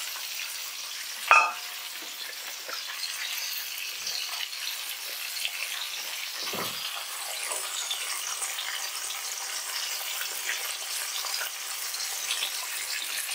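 Green peas tipped into fried rice frying in a pan: a sharp thud as they land, then a long, even sizzle with faint stirring scrapes.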